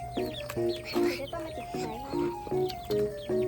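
Chickens clucking in a short repeating series of loud, close, throaty calls at an evening farmyard, with a steady hum and other faint sounds underneath.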